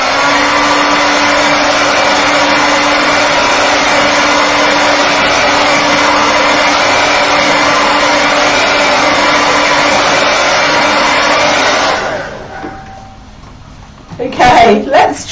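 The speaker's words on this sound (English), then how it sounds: "I'm going to dry this with a hairdryer just to show you." A hair dryer blasts steadily to dry watercolour paint during a painting demonstration, a loud, close, constant whirring hum for about twelve seconds before cutting off, followed by brief handling noises.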